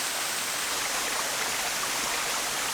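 A mountain stream in the Brecon Beacons rushes over rocks in a sheltered gorge, a steady, broad, hissing flow of water heard close and continuous with no voices.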